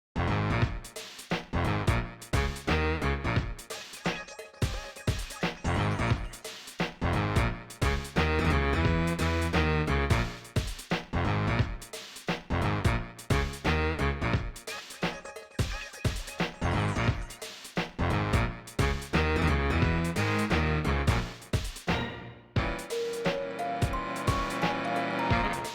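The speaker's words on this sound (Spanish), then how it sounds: "han puesto una canción que no se va a usar al final" An unused Deltarune game track, a dense and energetic chiptune-style tune with quick repeated notes and punchy low hits, playing continuously throughout.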